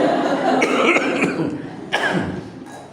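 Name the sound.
cough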